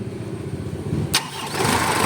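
Mitsubishi Canter truck with a 4M51 diesel engine that had a knocking fault starts up: a quiet idle-like rumble, then a sharp loud cranking catch after about a second that settles into a steady, close diesel idle.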